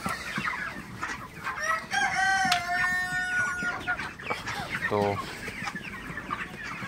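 Broiler chickens cluck and squawk loudly close by as they are shooed, with one drawn-out crow-like call and busy flapping and scuffling; a voice speaks briefly.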